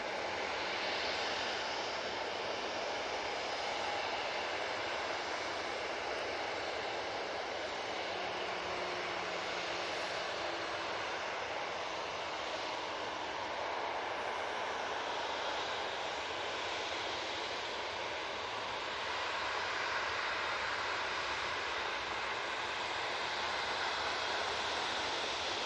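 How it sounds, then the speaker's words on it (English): Lufthansa Airbus A319 arriving from Frankfurt touching down at Manchester, a faint, steady distant jet rush that swells slightly and lingers across the whole stretch, with no talk. "Lufty now about to touch down. Coming in from Frankfurt using their 319."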